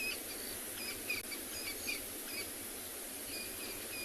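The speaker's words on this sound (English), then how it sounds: "You can hear a lot of crested francolins calling in the background." Crested francolins calling at sunrise in the wild, faint scattered calls in the distance over a quiet bed of insects and ambient hiss.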